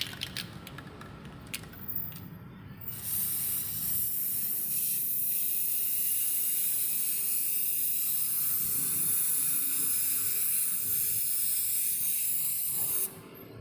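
Boss Spray anti-leak waterproofing aerosol sprays in one long continuous hiss, loud and close, lasting about ten seconds after a few faint rattles, with no talking.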